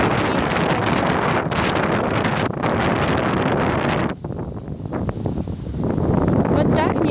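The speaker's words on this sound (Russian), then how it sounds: "сегодня ветер поднялся." Strong wind gusting on a mountain top above houses and a road, loud buffeting roar on the microphone that briefly eases before surging again, with a voice speaking underneath.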